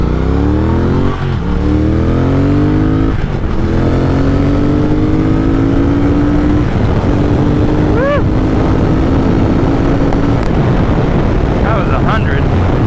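Triumph Thruxton 1200 motorcycle accelerating hard on an open road, engine loud and close, revs climbing through several gear changes with rising pitch sweeps, steady wind roar throughout.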